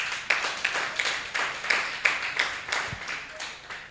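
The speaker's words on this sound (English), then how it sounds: "Can you clap for yourselves?" Students at a bootcamp pitch day clap for themselves in a modest round of applause, with a fairly steady pattern of distinct claps from a smallish group in a room.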